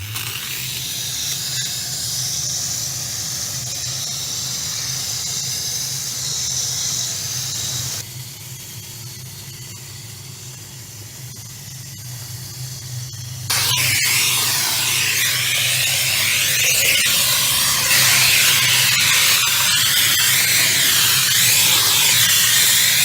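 A Weedtechnics SW500E steam weed treatment unit with an open applicator head hisses steadily on paving and pathways, shifting intensity partway through and growing to a loud, close roaring spray of steam.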